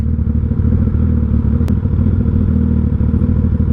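Suzuki Hayabusa motorcycle being ridden, a steady loud engine drone with low rumble and rattling clatter throughout, with a brief sharp click partway through.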